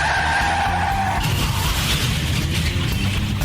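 Truck tires skid loudly in a radio ad, a harsh sustained screech that gives way to a rough grinding rumble, close and alone without talk.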